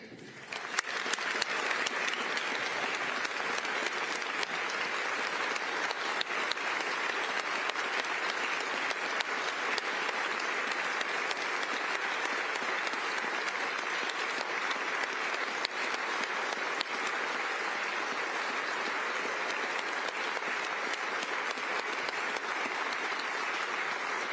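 A large audience applauds a family during Utah's 2025 State of the State address at the State Capitol, sustained even clapping that carries on steadily for over twenty seconds with no speech over it.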